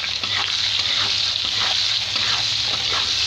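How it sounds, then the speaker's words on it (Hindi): Steady, close frying hiss from a pan with potatoes cooking in oil with salt and a pinch of turmeric for a small fish curry, with faint stirring scrapes throughout. "इसमें थोड़ा सा नमक और बिल्कुल ज़रा सा हल्दी डाल के हम इसे फ्राई कर लेंगे"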